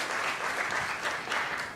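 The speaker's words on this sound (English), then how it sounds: "let's give Ms. Joni Teves a big round of applause" Conference audience applauding a speaker, a dense steady patter of many hands clapping close by, brief and unbroken.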